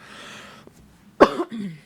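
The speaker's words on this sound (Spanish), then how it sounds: "Perdone esta tosedera que luego cuando hace frío me molesta un poco los bronquios" A single sharp cough from a man suffering bronchial irritation in cold weather, sounding close and loud, preceded by quiet room noise and followed by a short rougher throaty tail.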